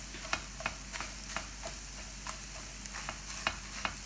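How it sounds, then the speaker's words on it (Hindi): Egg being broken up and stirred in a hot pan, with a steady background sizzle and regular sharp scraping taps of the utensil about every third of a second, close and fairly quiet. "बहुत ज़्यादा हमने अपने एग को फ्राई नहीं करना, ऐसे तोड़ देना है।"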